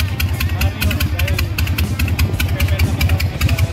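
A Harley-Davidson motorcycle with straight pipe exhaust idles close by, a loud, lumpy, rhythmic loping beat with sharp crackling pulses repeating evenly throughout.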